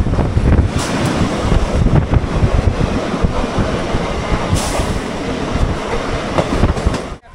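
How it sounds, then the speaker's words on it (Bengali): Commuter train pulling out of Bangaon station bound for Sealdah, a loud continuous rumble and rattle of the carriages with wind buffeting the microphone throughout, no voices. "বনগাঁ থেকে ট্রেন ছেড়ে দিল"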